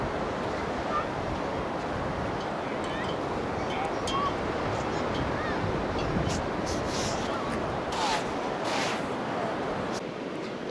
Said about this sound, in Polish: Bardzo uwielbiam przyjeżdżać nad morze, słuchać szumu fal